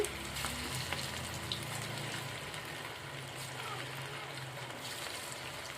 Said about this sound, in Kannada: ಎಣ್ಣೆ ಕಾಯ್ತದ ಇವಾಗ ನಾನು ಒಂದೊಂದು ಒಂದೊಂದಾಗಿ ಬಿಟ್ಕೊತೀನಿ ರೀ